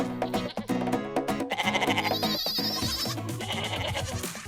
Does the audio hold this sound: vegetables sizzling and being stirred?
no